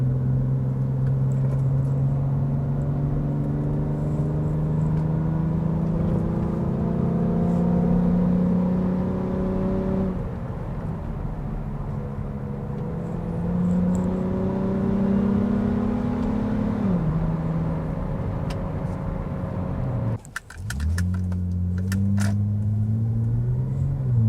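A 2003 Acura 3.2CL with its J-series V6 pulls hard through the gears, engine note climbing steadily with brief dips at each shift, loud and close from start to finish with no talk.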